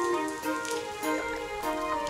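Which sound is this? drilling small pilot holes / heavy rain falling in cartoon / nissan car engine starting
heavy rain falling in cartoon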